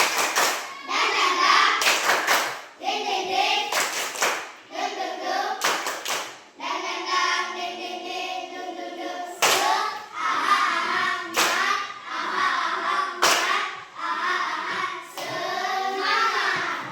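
Children in an Indonesian primary classroom perform the rhythmic 'tepuk semangat' clapping chant, sharp unison hand claps in patterned bursts alternating with chanted young voices, loud and close throughout.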